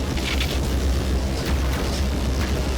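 Heavy weapon fire in the game Black Mesa sets off repeated booming explosions, loud deep blasts with crackling bursts coming one after another without a break.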